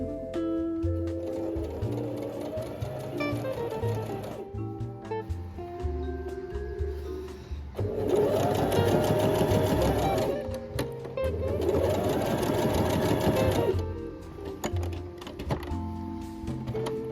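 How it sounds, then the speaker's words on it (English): A sewing machine stitches down the side of a quilted tote bag in two long, loud runs of rapid mechanical whirring, separated by quieter stretches with a tonal background sound. "So we're gonna continue to sew down here"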